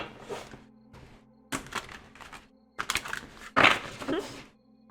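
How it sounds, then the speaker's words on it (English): A giant tarot card deck is shuffled by hand in several irregular, close bursts of papery clattering and riffling, separated by short pauses. "it can be a little bit difficult to shuffle"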